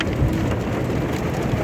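Heavy rain drums hard on a car driving along a highway in stormy weather, a dense and continuous patter on the roof and glass with no talk.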